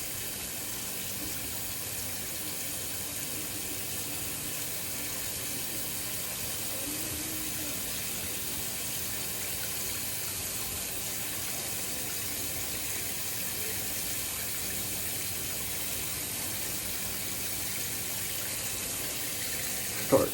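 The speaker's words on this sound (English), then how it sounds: "Start washing my brush out at this time." Steady running water from a tap while a shaving brush is rinsed out, a constant even gush that continues unbroken and fairly close throughout, with no talking.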